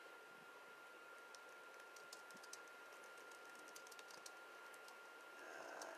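Soft, quick keyboard typing in a quiet room, a steady patter of light key taps with brief pauses, faint and close with no talking.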